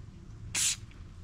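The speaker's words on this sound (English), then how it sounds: "Spray a little bit of brake parts cleaner on this" Brake parts cleaner sprays from an aerosol can in a single short, loud hiss lasting about a quarter second, close by, with quiet workshop background before and after, during a 2011 Malibu valve cover gasket job.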